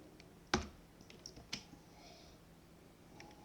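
Keys on a computer keyboard are struck while a product key is entered, giving a few sparse, sharp clicks, one louder tap near the start, set against quiet room tone.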